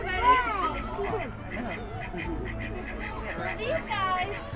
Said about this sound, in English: an Indian runner duck